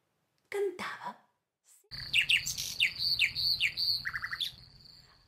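A metal mechanical nightingale sings as a sound effect in a storytelling of Andersen's The Nightingale. It opens with a short, separate warble, then gives bright, rapid chirps and trills in quick, repeated phrases, clear and close.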